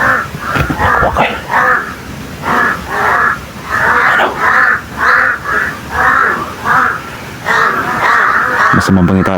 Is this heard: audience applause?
no